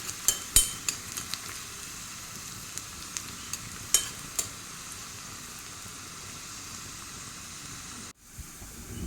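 Chopped onions sizzle steadily in a hot pan for a cashew nut curry, with irregular clinks and scrapes of a spoon stirring them through the first few seconds, then a quieter continuous fry.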